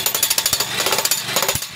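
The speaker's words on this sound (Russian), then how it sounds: "Затем работают мощными домкратами и отбойным молотком." A jackhammer pounds in rapid regular bursts during a rescue drill, loud and close, with a short pause partway before hammering resumes.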